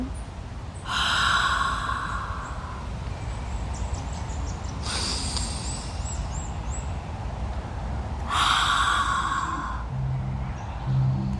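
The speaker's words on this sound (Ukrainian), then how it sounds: "Запам'ятайте це дихання квадратом." Slow, deliberate box breathing: three long, audible breaths close to the microphone, separated by long pauses over a steady background hiss.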